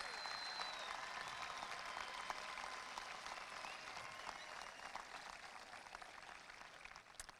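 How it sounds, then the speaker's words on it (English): A graduation crowd applauds the teachers at the Del Rio High School class of 2015 ceremony: a broad, even roar of many hands clapping, faint and distant-sounding, sustained for more than seven seconds with scattered sharper claps. "If at this time you could give a nice round of applause for all of the amazing teachers at Del Rio High School."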